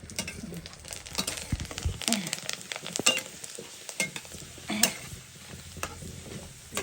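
Food deep-frying in hot oil with a constant sizzle while a utensil stirs and scrapes the pan in irregular clinks and knocks, close up, no talking.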